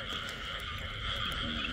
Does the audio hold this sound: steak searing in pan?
no